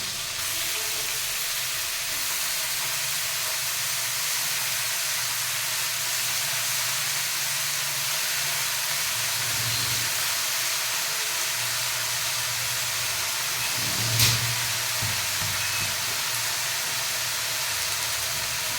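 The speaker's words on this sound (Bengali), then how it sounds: "মাছগুলো ভাজা হয়ে গেছে, এর ভিতরে আমি শাকগুলো দিয়ে দেবো।" Fried fish in a pan sizzles steadily as mustard greens, spinach and chillies are added, a constant close hiss with a brief louder flare partway through.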